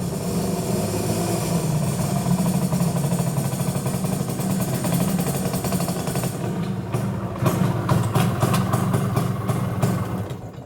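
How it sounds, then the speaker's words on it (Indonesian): A motorcycle engine runs steadily with a rough, chugging idle, loud and close, continuing throughout without voices. "Suara motor tuh."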